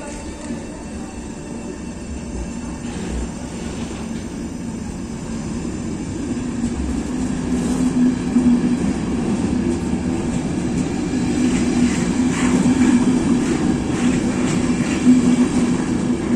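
Rumbling train passing nearby at Hluboká nad Vltavou-Zámostí, a continuous heavy roll of wheels on rails that swells gradually louder, with faint metallic squeal tones.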